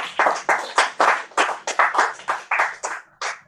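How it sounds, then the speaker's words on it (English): Congregation at a church service giving a clap offering: about a dozen bursts of loud, close hand clapping in an uneven rhythm, each swell fading before the next, with no voices over it. "let's actually give a clap offering to King for this question"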